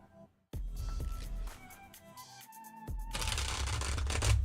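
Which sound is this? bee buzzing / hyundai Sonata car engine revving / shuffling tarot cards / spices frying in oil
shuffling tarot cards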